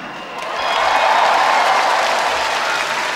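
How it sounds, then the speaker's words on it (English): Concert audience clapping at a show, a dense, sustained wash of applause that swells after the first half second and holds steady and loud throughout. "Do you like clapping?"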